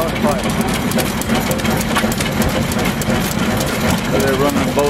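A 110 HP Continental flywheel engine runs steadily and loudly up close, a continuous low throbbing rumble with fast regular mechanical ticking, while people talk nearby.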